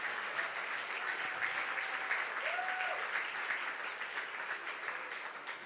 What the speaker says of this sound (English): Let's give another hearty round of applause and mazel tov to Daniel, Karen, Rory, Russell, Jenny,